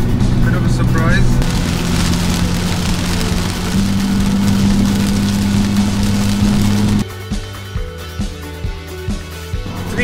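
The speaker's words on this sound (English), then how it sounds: "it just rains like crazy" Heavy rain patters steadily over a running vehicle engine hum; after the engine note stops, rhythmic thumps continue under the rain.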